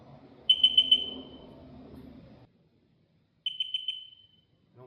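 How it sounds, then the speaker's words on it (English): Two bursts of rapid high chirping beeps from a Sea-Doo RXT personal watercraft as it powers up, each a quick run of four or so electronic tones, the first over low idle-like rumble and the second alone after a pause. "I'm assuming that double chirp just means everything's good."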